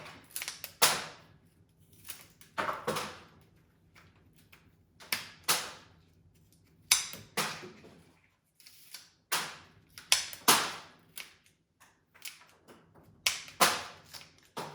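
Scissors or snips cut through thick eucalyptus stems for a bouquet, sharp crisp clicks and crunches repeated in an irregular rhythm with quiet gaps, close and clear.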